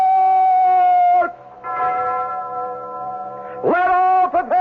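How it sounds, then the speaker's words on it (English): An alarm bell rung in a radio drama about a castle preparing for siege: sustained, ringing tones with a pause in the middle and then a fresh, louder burst, loud and up close, with no voices. "Ring the alarm bell!"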